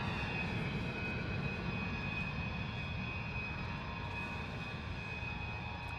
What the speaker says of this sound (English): Noisy guy over here doing some engine tests,